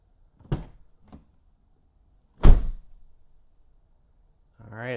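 Car doors swung open and shut beside a parked vehicle: a sharp thunk, a softer knock, then a louder slam about two seconds later, with a brief voice starting at the end.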